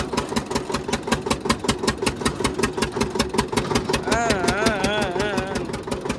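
A large tractor engine idles nearby with a steady, rhythmic diesel chug and knocking pulse, loud throughout, while a warbling whistle-like tone rises over it near the end.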